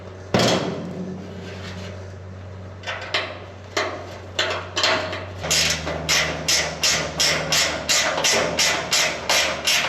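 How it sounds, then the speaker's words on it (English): Bolts being fastened back into a Modine shop heater with a ratchet, giving sharp metallic clicks at first, then a fast, regular run of loud ratcheting clicks close by over a low steady hum. "Bolts back in here. Two of them at least."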